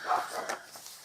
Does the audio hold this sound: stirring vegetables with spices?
no